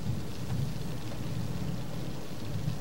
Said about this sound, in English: I love the timing of that lightning